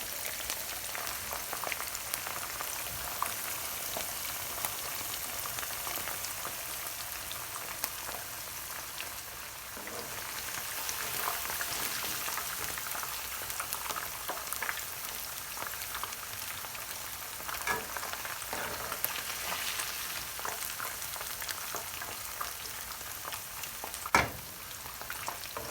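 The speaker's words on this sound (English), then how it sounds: "So we're only frying them for 3 or 4 minutes." Steady crackling sizzle of beef strips frying in hot oil for crispy honey chilli beef, continuous and close, with occasional sharper pops and no talking.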